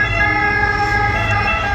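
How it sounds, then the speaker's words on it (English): An ambulance siren sounds loud and steady on a street in Rome, its tones holding for the whole two seconds over the low rumble of road traffic. "there's an ambulance or something"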